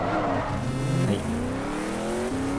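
A high-performance Ford GT engine in a racing video game roars and climbs in pitch through gear shifts, with a brief tire squeal, loud and continuous.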